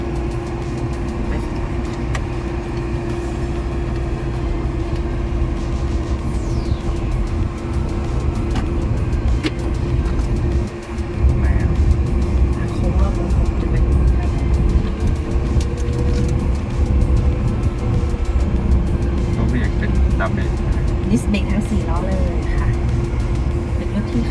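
A Wuling Air EV electric city car on a test drive makes a low steady road rumble with faint tire noise throughout, while people talk inside the cabin.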